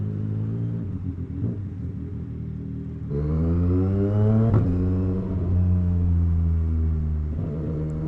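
A loud CFMOTO 675 SR-R sport motorcycle exhaust roars steadily, then surges as the engine revs higher and shifts through gears, up close with a deep rumble.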